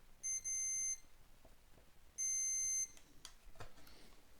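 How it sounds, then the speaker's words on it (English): A multimeter gives two clear, steady high-pitched continuity beeps as its probes are touched together, the first about three quarters of a second long and the second slightly longer, followed by faint clicks and handling noise. "putting them together, we should get a beep"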